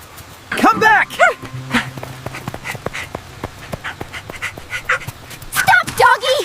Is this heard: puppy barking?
yes